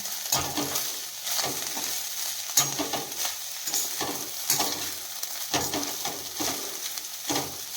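Leftover rice tossed with ready-made Schezwan masala in a hot pan over high flame, a steady close scraping and stirring with a continuous sizzle underneath and regular spoon strokes.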